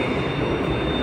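An LRT train in Kuala Lumpur runs with a steady, loud, broadband rumble and rolling wheel noise heard from inside the car, continuous for a brief stretch with no voices.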